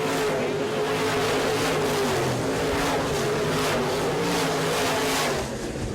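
Midwest Modified race cars roar around a dirt track, a loud, steady wall of engine noise with rising and falling passes as the pack circles, continuous for the whole stretch.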